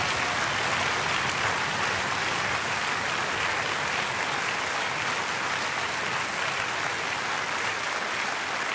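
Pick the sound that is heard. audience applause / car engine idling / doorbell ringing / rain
audience applause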